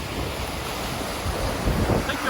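Sea waves and wind buffet a sailboat crossing the Strait of Gibraltar, a steady broadband rush of water and wind noise with slightly louder swells near the end.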